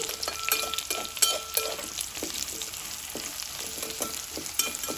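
Potatoes frying in hot oil with a steady, close sizzle and crackle, broken by intermittent clinks and scrapes of a spoon stirring against the pan.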